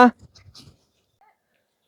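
A single short, loud bark from a dog at an elderly couple's home in Kaluvanchikudy, followed by a few faint rustles and soft sounds before falling quiet.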